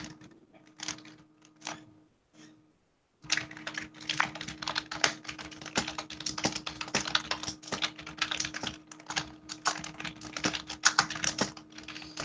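Rapid clattering keystrokes on a loud computer keyboard, close and dense, with a brief pause near the start before steady fast typing resumes over a low constant hum.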